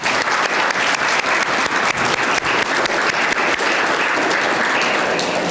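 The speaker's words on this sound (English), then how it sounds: "Let's give all of our sponsors a round of applause." A roomful of guests at an alumni awards dinner applauding sponsors, sustained loud and even clapping from many hands throughout, close and full with no voices over it.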